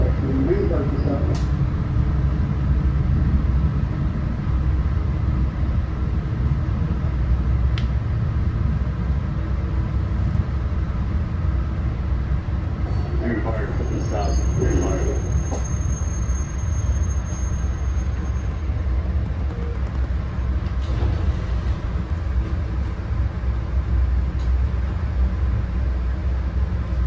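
A South Shore Line commuter train runs between South Bend Airport and Chicago, with a steady, loud, close low rumble throughout and occasional brief rattles and clicks, while faint voices murmur beneath the noise.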